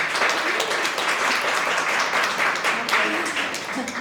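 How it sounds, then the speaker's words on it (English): Audience applause for a panelist at a Latinas Wine Club fifth anniversary fiesta panel on women in wine: steady, dense clapping from a crowd, loud and continuous throughout. "I want a round of applause for this wonderful lady"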